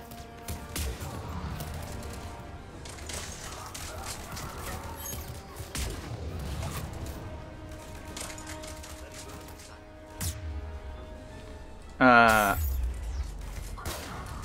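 Scattered gunfire crackles through a Mass Effect 3 firefight, with bursts of rapid shots, a sharper burst near the end, and game dialogue running over the combat.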